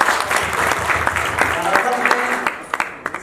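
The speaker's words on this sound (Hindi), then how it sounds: "इसके लिए ताली बजाती है" Hand clapping from a small group bursts out and carries on through the whole few seconds, fairly loud and dense, with a few sharper individual claps trailing off at the end.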